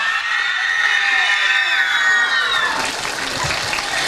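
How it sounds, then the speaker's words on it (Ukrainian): Crowd at an Easter charity fair cheers and applauds after a Hopak dance duet, with high whistles and shouts rising over a steady wash of clapping, fairly loud and close. "Будь ласка, оплески."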